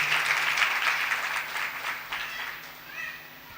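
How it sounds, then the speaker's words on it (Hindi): Audience applause at a church sermon gathering, loud clapping from a crowd that is strongest at first and then fades gradually. "ज़ोरदार तालियां बजाते हैं।"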